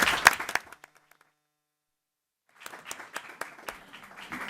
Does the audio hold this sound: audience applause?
yes